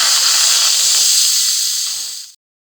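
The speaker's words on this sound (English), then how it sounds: "push my button here, which is going to do a manual release with the steam." A pressure cooker releasing its steam manually after cooking salsa chicken, a loud, close, steady hiss that holds for about two seconds, then fades and cuts off abruptly to silence.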